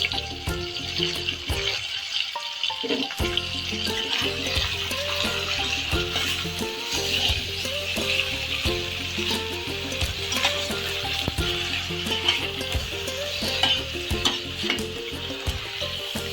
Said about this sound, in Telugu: ఇవన్నీ మంచిగా కలుపుదాం.